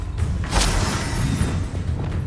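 A Confringo spell blast from Hogwarts Legacy booms loud and close, a dense rumbling explosion with a sharp burst near the start that stays full and roaring throughout.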